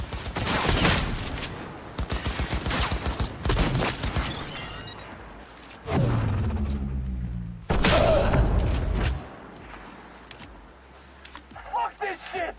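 Gunfire in Cyberpunk 2077, where a player is using a shotgun: loud, close shots in rapid bursts and a few heavy single blasts with trailing echoes, separated by short gaps.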